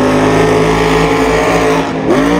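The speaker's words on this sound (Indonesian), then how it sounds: "truk monster sedang bermanuver" A monster truck maneuvers and spins in a video game, its engine roaring loud and steady throughout, with a brief dip and recovery near the end.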